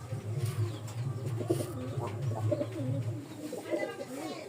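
Pigeons coo in low, rolling calls close by, with several overlapping birds and other soft chirps, while a person talks over them.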